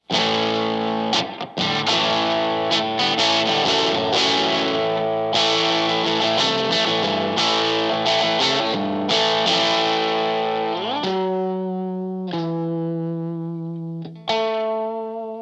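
A Squier Paranormal Esquire Deluxe electric guitar plays a clean, punchy riff of strummed chords and single notes with no overdrive, loud and close, ending on sustained ringing notes.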